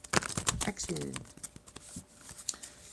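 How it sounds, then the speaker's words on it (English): Tarot cards are shuffled by hand in a series of quick, crisp slaps and flutters, close to the listener, while a voice talks briefly underneath. "I'm just shuffling the cards so that they can have a little more"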